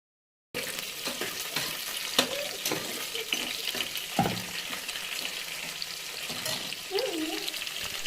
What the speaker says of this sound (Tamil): வெங்காயத்தை போட்டு நல்லா வதக்கிக்கோங்க.